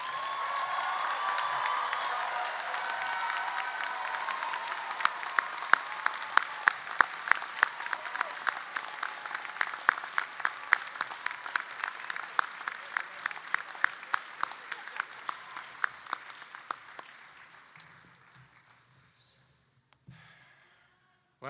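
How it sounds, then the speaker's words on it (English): Audience at a medical school White Coat Ceremony applauds the new medical students, a dense wash of clapping that thins into distinct individual claps before fading out. "let's give a round of applause for these amazing medical students"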